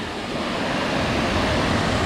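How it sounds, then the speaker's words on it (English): Willis Run, a sizable creek swollen after heavy rains, rushes past below a newer bridge in a dense, steady roar that holds at an even loudness throughout, with no talk. "It's running a little bit heavier than normal."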